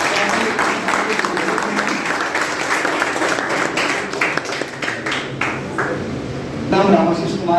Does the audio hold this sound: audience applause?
yes